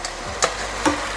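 Italian sausage goes back into a hot pan, where it sizzles steadily up close and gets two quick stirring scrapes, with no one speaking.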